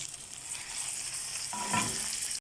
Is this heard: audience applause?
no